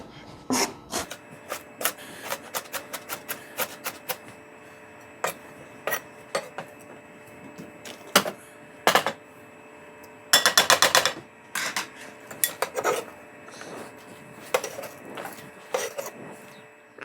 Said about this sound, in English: I like to give it one last dice to make sure the pieces are nice and small